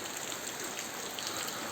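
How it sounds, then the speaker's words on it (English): Heavy tropical-storm rain pours steadily and evenly, a dense close hiss of drops on surfaces with no voices. "Raining big time. The tropical storm is here"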